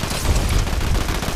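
Dense, continuous gunfire rattles close by in a Fortnite match, a rapid burst of overlapping shots that fills the whole moment at steady loudness.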